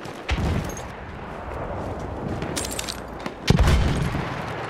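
Battlefield 1 combat on a battlefield: a grenade blast and rattling gunfire burst out against a steady roar of distant shooting, with a second heavy explosion landing near the end.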